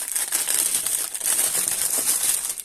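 Plastic packaging of a cross stitch kit crinkling close up, loud irregular rustles and crackles with brief dips, continuing throughout.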